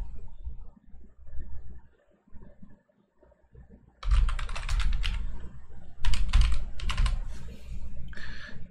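Rapid, close clicking of fingers typing a password on a computer keyboard, arriving in two dense bursts separated by a short pause, with quieter handling noise before the typing begins.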